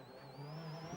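Rally car on the Tour de Corse mountain stage, heard briefly as the engine pulls hard onto a straight, with a rising, steady engine tone close by.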